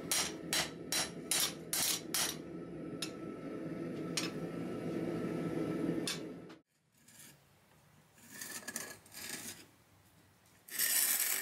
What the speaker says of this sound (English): you come back with light hammer blows and flatten the whole entire piece out